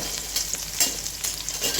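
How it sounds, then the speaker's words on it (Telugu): Small onions fry in oil left over from frying lentils, giving a close, steady sizzle with a few light stirring scrapes and no talk. "పప్పులు ఫ్రై చేసిన ఆయిల్లోనే చిన్నుల్లిపాయ వేసేద్దాం."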